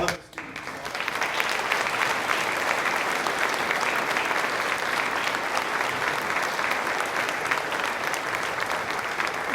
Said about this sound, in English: can we get one more round of applause for all of the students?